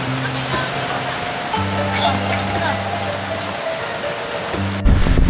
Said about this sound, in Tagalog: lakas ng hangin, kung naririnig nyo, tsaka ulan